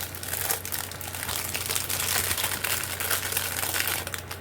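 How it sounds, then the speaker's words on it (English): Crinkly plastic packaging from a Temu parcel being torn open down the side, a continuous close crackling and rustling that runs steadily for several seconds with no talk over it. "So I'm just going to go and rip it down the side."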